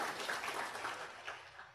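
An audience claps at a seminar, producing a short, fairly faint burst of scattered applause that fades out within two seconds.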